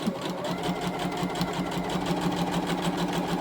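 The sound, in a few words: sewing machine stitching a scrunchie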